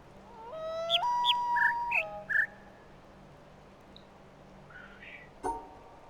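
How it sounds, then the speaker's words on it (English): Bird calls ring out in the autumn forest of The Witness puzzle game, a series of clear whistled tones and chirps, several in quick succession and then one more after a pause, over a faint low ambient hum. "the bird, the one that is chirping, only does the small sound"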